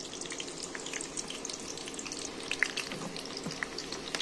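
Chopped onion and a pinch of crushed cumin frying in hot oil for a tadka: a soft, steady sizzle with small crackles and pops, fairly quiet and close, with no talking over it.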